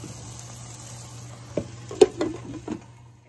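Food stirred in a pan while it sizzles and fries, a steady low hiss under a few distinct scrapes and clinks of a utensil against the pan, close and fairly quiet.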